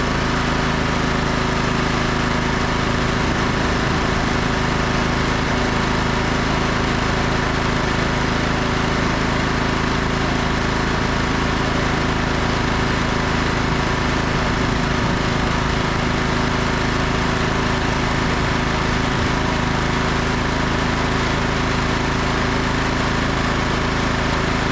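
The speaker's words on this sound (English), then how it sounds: "This engine runs great." A lawn tractor engine runs steadily and loudly at a constant speed, droning on without pause and with no voices over it.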